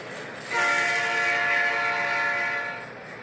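A Canadian Pacific intermodal freight train passes at moderate distance, its horn sounding a sustained chord for about two seconds before fading, over a low rolling rumble.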